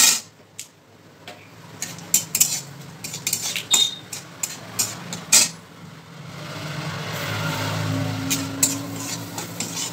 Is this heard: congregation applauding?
no